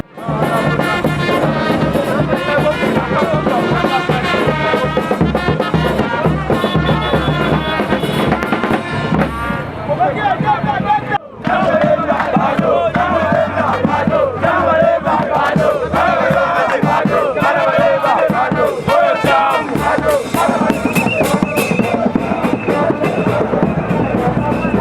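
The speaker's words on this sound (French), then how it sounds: "la foule qui arrive là" A large, dense crowd arrives at a political rally, shouting and cheering in a loud continuous roar with sharp bursts like firecrackers and possible chanting, pausing briefly before surging back just as loud.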